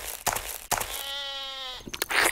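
A single sheep gives one clear, wavering bleat at close range, set among some brief knocks and handling noises.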